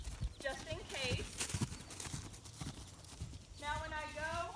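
A frisky horse moves in a round pen, its hooves clopping in an uneven rhythm at close range and a loud whinny rising near the end, with a trainer's voice talking over it.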